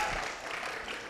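Brief burst of audience clapping at a leadership camp capstone presentation event, a dense patter of hands lasting about a second, moderately faint.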